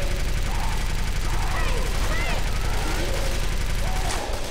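Dense, sustained gunfire from several weapons aimed at a Tank in the video game Left 4 Dead 2, with continuous rapid shots and chatter over loud game noise.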